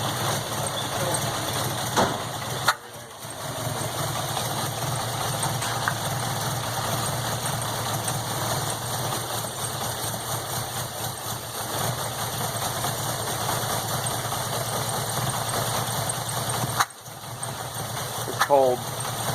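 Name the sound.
cold engine of MK2 GTI with motorcycle carbs idling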